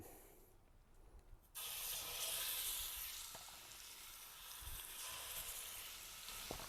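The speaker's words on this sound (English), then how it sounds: "coat the pot with a little vegetable oil, and we're gonna start browning the meat" Chicken browning in vegetable oil in a pot, starting as a faint background before a sudden loud sizzle that then continues as a steady hiss, with occasional small clicks and no talk.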